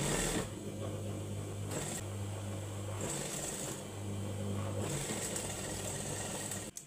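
Sewing machine stitching the side seam of a dress runs in a steady, close whirring drone, broken by a few brief pauses and restarts, with no talk over it.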